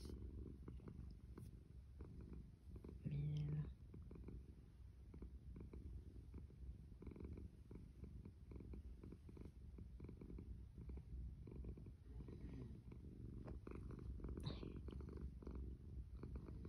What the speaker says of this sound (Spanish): Y bien lindo, mi gatito.